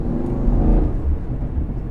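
A Chevrolet Camaro Redline Edition, black with red outlining, rumbles past up close, its engine swelling and then easing off as it drives by, with no voices over it.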